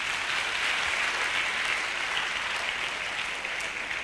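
Crowd applause in an audience at a public speech, a steady dense wash of clapping throughout, loud and sustained without any talking over it.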